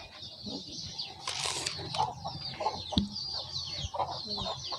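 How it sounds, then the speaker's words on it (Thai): Backyard chickens on a small self-sufficient home farm cluck and squawk close by, with a burst of wing flapping partway through and scattered calls throughout. "การเลี้ยงเป็ดเลี้ยงไก่ค่ะท่านผู้ชม"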